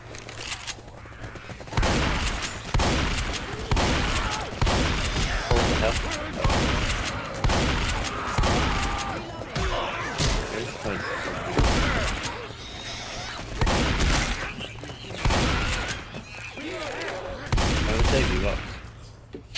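Gunfire in Left 4 Dead 2, with repeated loud bursts of shots in an uneven rhythm across the whole stretch and voices calling out between and under the shooting.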